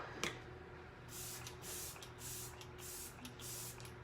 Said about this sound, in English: I'm just gonna take a little refreshing spray and set my face with it.